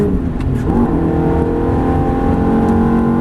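Ferrari 430 accelerating at full power on the Prestwold race track while overtaking another car, a loud, steady engine roar from close by that holds throughout with rising revs.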